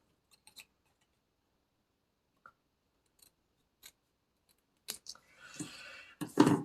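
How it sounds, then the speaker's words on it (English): Scissors cutting a paper leaf for a spring greeting card, a few faint isolated snips and clicks spread over quiet, then a cluster of louder crisp cuts and paper rustle near the end, close by. "Let's cut off one more leaf here."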